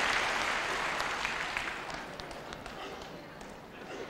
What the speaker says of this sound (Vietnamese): xin quý vị một tràng pháo tay cho Quyên Chi và bài hát ô cara